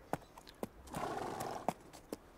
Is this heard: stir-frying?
no